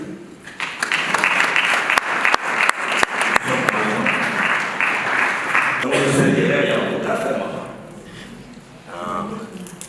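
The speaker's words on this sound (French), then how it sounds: "Pendant que Maman Bernadette s'approche, on acclame le Seigneur." A congregation at a funeral service claps steadily to acclaim the Lord, with dense, sustained applause. A voice speaks over it and carries on after the clapping fades.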